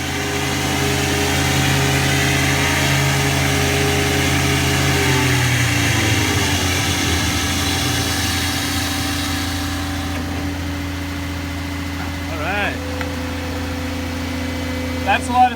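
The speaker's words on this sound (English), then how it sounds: "That's a lot of suction power" A SmartVac vacuum truck at the WWETT Show 2017 runs its suction, giving a loud, steady engine drone with layered hum that eases toward the end, with brief squeaks and knocks in the last seconds.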